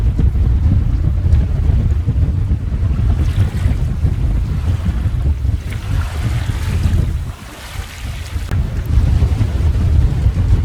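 Strong wind roars steadily over a sailboat anchored off Prudhoe Island at sunset, with heavy low gusting noise buffeting the microphone and water sloshing beneath, easing briefly before building back up.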